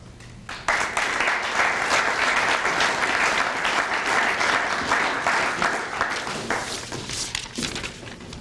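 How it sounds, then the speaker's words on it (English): An audience at an awards event for a storefront renovation program breaks into loud, sustained applause that starts abruptly and continues steadily before beginning to thin out. "If we could just give a round of applause for all of our recipients tonight."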